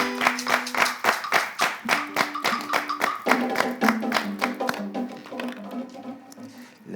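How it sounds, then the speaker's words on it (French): A small group claps, the rhythm starting sharp and fairly loud before thinning out and fading as the applause dies down. "On l'applaudit."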